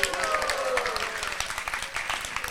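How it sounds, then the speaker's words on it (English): Audience at an evening devotional program during a Jagannatha Puri pilgrimage breaks into applause, a steady wash of clapping lasting the whole moment with a voice faintly audible beneath it. "If you like this, give a round of applause."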